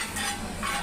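Hot oil tempering (oggarane) poured over freshly ground chutney, with a steady close sizzle and light stirring clinks lasting under a second, with no voices.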